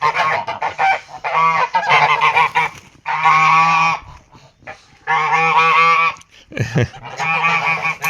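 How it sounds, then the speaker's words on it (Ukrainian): Several geese honk loudly and repeatedly at close range, harsh nasal calls in bursts with short pauses between. "Гусі, гусі."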